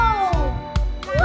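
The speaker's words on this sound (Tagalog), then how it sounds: "This is Maine Coon." A Maine Coon cat meows close by, one drawn-out falling meow followed by a shorter rising one, with brief knocks and noises in between.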